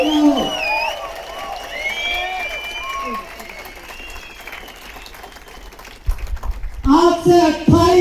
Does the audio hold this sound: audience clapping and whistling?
yes